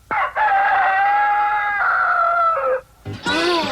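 A rooster crows loudly and close, a long strained cock-a-doodle-doo lasting over two seconds, followed by a shorter second call.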